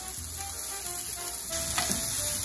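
Salted onion frying in a pan while being stirred nonstop, a dense, loud sizzle with scraping and shuffling of the spoon running throughout at close range.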